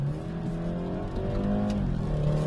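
A BMW 4 Series Cabrio's two-litre four-cylinder engine running steadily at close range, a smooth, even drone with a slight rise in pitch partway through and no talk over it.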